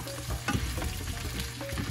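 Vegetables stir-fry in olive oil for gambas al ajillo, giving a steady close sizzle with brief scraping stir noises and no talk.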